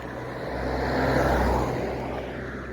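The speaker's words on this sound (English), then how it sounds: "Right, this car's coming, I'm pulling in." A car passes on a road near a heavy rider stopped on an electric skateboard during a hill test, a steady engine and tyre rumble that swells to a peak midway then fades, with no talking.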